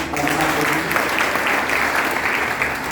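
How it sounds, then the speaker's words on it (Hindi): Loud, sustained applause from an audience at a Vestige business gathering in Kasganj, a thick continuous wash of clapping with some crowd noise mixed in. "इस सदी के महानायक सर के लिए जोरदार तालियां।"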